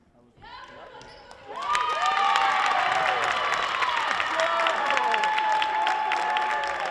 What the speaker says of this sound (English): And it's cheering, the basket is good.